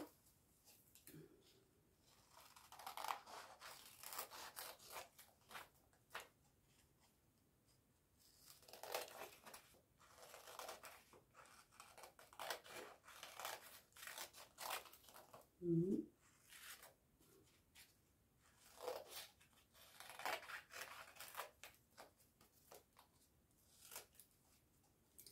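Scissors snip through paper to cut out a handmade paper fan in a collage art-therapy exercise, a series of close, crisp cuts and crinkles with pauses between strokes.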